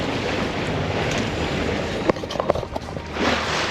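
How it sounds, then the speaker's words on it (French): Steady wind and washing waves around a sailboat at sea on a Pacific crossing, a continuous broadband rush with a few brief knocks and splashes partway through, no voices. "Il y a le vent qui revient, on dirait."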